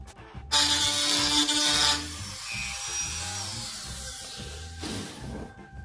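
Power drill boring holes in the sheet-metal housing of a light fixture on a Harbor Freight sandblaster cabinet, a loud, steady whirring bite for about a second and a half, then a lower, softer motor whine that trails off.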